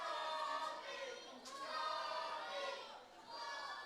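A wrestling crowd at a charity show in a hall jeers at wrestler Jason Reed, a loud, continuous wash of shouting and booing voices with a few sharper yells rising from the mass.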